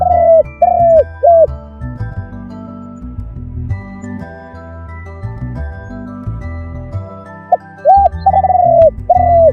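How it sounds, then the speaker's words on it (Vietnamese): A pigeon or dove cooing up close and loud, a few short rounded calls at the start and a fuller cluster near the end, with quieter low tones in between. "Con chim."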